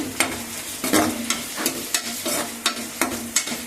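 Chopped tomato pieces fry in a pan for an arbi (taro root) curry, a close sizzle punctuated by regular spatula scrapes and taps roughly every half second.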